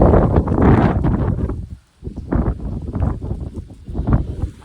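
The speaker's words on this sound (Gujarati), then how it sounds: "ફૂલ પવન હોય છે." Strong wind buffets the microphone in loud, continuous gusts, with a brief lull partway through before the roaring resumes.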